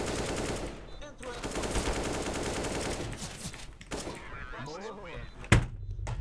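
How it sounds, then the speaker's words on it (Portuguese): Rapid gunfire bursts in the video game CS:GO, dense automatic shots running under the player's talk, with a brief lull and then a sharp loud crack near the end. "Os tiros pela caixa ali."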